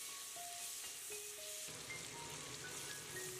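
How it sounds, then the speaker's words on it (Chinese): Pork and garlic leaves being stir-fried in a wok, with a steady hiss of sizzling and a few soft clinks of a spatula stirring. "翻炒至蒜叶变软"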